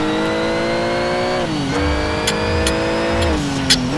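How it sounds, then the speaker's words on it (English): Porsche race car engine in the Need for Speed Shift racing game at Spa, revving loud and close with steady harmonic drone, pitch dipping at gear shifts near 1.5 and 3.3 seconds before climbing again. "I just want to push the Porsche to the limits."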